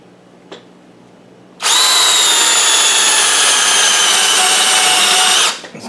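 A drill cuts into quarter-inch aluminum plate with a loud, close, high whining grind that holds steady for about four seconds and then stops. A faint tap comes just before it starts.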